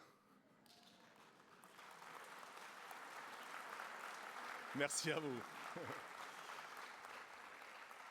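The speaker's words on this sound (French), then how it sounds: "quand vous m'applaudissez, ça me fait grave plaisir" Audience applause at a talk on disability inclusion, a soft, steady patter of clapping that builds gently and stays fairly distant, with someone briefly speaking over it midway.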